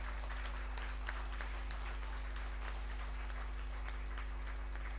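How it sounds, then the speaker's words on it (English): Church audience applause in a hall, a steady even patter of many hands clapping throughout, fairly faint and distant with a constant low hum beneath. "Let's give the Lord a big round of applause."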